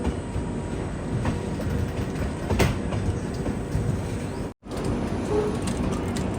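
The Ernakulam Patna Express rolls into Jabalpur railway station with a continuous loud rumble and rhythmic rattling of wheels over rail joints, heard close from on board, with a brief silent gap near the end.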